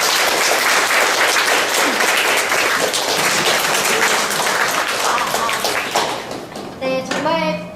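Lecture audience applauding after a ninety-minute special talk, dense sustained clapping that thins toward the end as a voice begins speaking.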